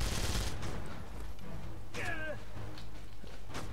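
Bursts of rapid gunfire in the video game Avatar crackle and pop over a noisy, dense background, with a few sharper shots standing out near the end.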